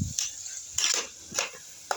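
A spoon stirs mutton curry in a pan, three or four scraping, sizzling strokes at an uneven pace, close and fairly quiet with no talk.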